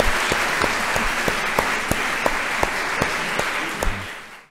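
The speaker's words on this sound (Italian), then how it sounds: "un grande applauso alla professoressa Canini" A lecture audience applauds a professor after a talk on environment and climate, a steady roomful of clapping with a few sharp individual claps standing out, fading away at the end.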